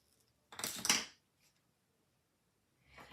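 Scissors snip the end of a ribbon at a desk: a brief, close, crisp cut, followed by quiet and a faint rustle near the end.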